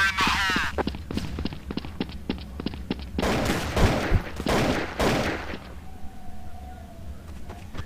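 Rapid gunfire in Counter-Strike: Source, a fast string of sharp cracks followed by several heavier, louder shots and a few final bursts, then a fading tone; brief voices mixed in.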